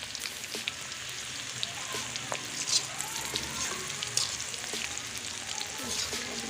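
Chicken liver fries in a karahi with a steady, close sizzle and crackle, with a few soft utensil clinks scattered through and no talking.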